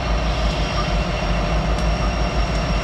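A freight train rolls past steadily with a continuous low rumble and clatter of wheels on rails, fairly close, with a faint squeal now and then.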